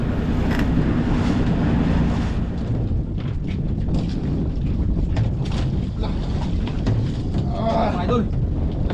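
Strong monsoon wind in the Philippines roars and buffets steadily against the microphone throughout, with a low rumble and occasional voices faintly underneath.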